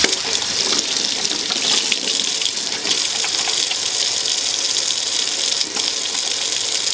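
Tap water runs steadily into a sink over goat milk soap lather, a continuous close splashing hiss with slight surges and no voices.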